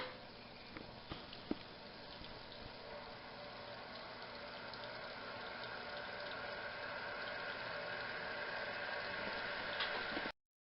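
A 1956 Whirlpool Imperial washer fills its tub with water, a steady rushing flow with a low pump-like hum and a few faint clicks, continuous and fairly quiet until it cuts off abruptly at the end.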